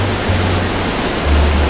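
Waterfall in a Scottish nature park, heard as a steady, loud broadband rush of falling water with a deep low rumble running continuously throughout, no voices.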